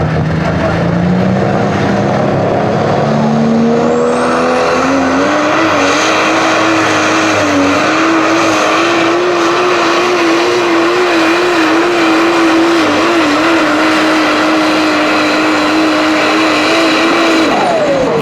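A Pro Stock diesel pulling truck at a truck-pulling competition runs at full throttle, its loud continuous engine roar climbing in pitch and then holding steady and strained for the whole pull.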